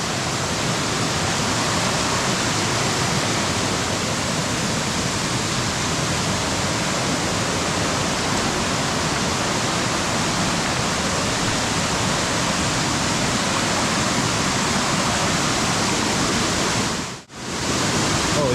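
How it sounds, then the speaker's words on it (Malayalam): A forest waterfall pours in a continuous, loud, even roar of falling water heard up close, filling the scene with dense rushing noise that drops out only for a moment near the end. "ഇതാണ് വെള്ളച്ചാട്ടം വെള്ളം ചാടുന്നുണ്ടോ എന്ന് വെച്ചാൽ ചാടുന്നുണ്ട്"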